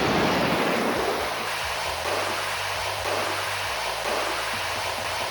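Waves wash steadily onto a beach in North Goa, a constant loud rush of surf with soft rolling low swells and some wind noise on the microphone.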